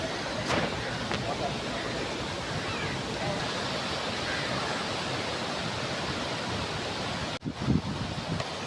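Surf at Fort Kochi Beach washes in a steady, broad hiss of breaking waves with wind, continuous and fairly even, with faint voices beneath.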